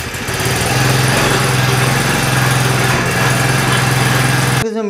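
A petrol mini power tiller's small engine runs after a pull start, a loud, steady, close buzzing drone that holds for several seconds and then suddenly stops.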